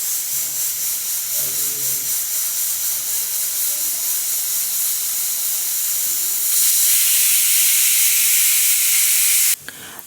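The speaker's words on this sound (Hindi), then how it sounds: "कुकर में 2 सीटी लग गई हैं" A pressure cooker of khichdi lets out a long steady steam hiss that swells louder partway through, then cuts off abruptly near the end, heard alone with no talking.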